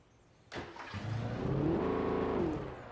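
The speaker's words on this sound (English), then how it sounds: "why does it have the same engine sound as the truck?" A car engine in the video game Alan Wake cranks and catches about half a second in, then revs up into a steady, rising mid-pitched drone that holds and eases off near the end, with no speech.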